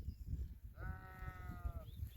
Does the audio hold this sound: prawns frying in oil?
no